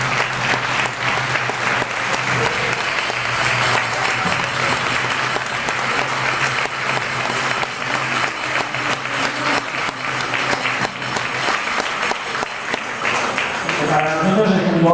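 A Christmas gathering at an Aragonese cultural centre in Puerto de Sagunto applauds the singers on stage: continuous, full crowd clapping with a low steady hum beneath, and voices emerging faintly near the close.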